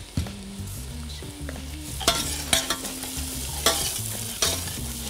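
Button mushrooms frying in olive oil in a pan, a close steady sizzle with scraping stirs and a few sharp clanks of utensil on metal, with quiet background tones.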